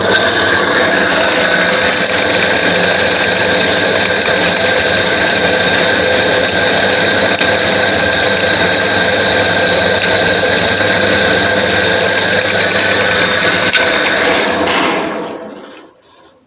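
A steady motorized whir drones loudly and continuously from a homemade drill press boring into wood with a 3.5 mm bit, running under load, then cuts off and winds down at the end.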